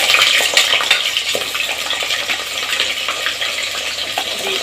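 Onions fry in hot oil inside a pressure cooker, giving a steady bright sizzle up close with occasional scrapes and stirring clinks from a utensil against the pot.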